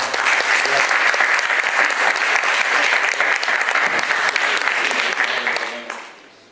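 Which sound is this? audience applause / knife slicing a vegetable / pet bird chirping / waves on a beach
audience applause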